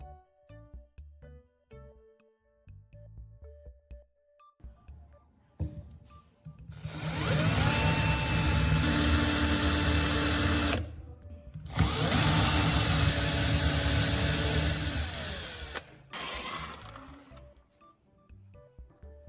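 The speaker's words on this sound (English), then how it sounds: "Drill 2 small pilot holes." A power drill bores small pilot holes into a board in two sustained, loud bursts, whirring for a few seconds each with a short pause between them and quieter handling sounds before and after.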